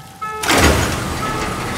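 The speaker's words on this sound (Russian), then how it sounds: "Почему закрылась дверь?" A heavy door slides shut in the video game SOMA, a loud whooshing rumble that starts abruptly after a faint electronic tone and settles into a sustained low hiss.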